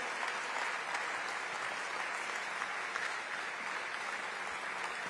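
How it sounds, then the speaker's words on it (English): A conference audience gives sustained, even applause to honor the event's leaders, producing a full wash of clapping that holds steady without pauses for five seconds. "Let's give them a round of applause."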